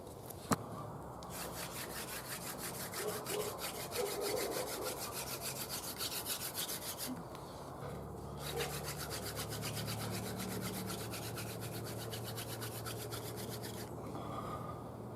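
A wooden spindle is spun back and forth on a hearthboard for a hand drill friction fire, producing a steady, rhythmic dry rubbing with fine repeated strokes, close and continuous, with no talk.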